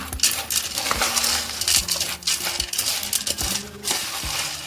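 Sesame, copra and jaggery for ellu bella being stirred and tossed in a vessel, producing repeated close clinks and rattling scrapes in an uneven rhythm.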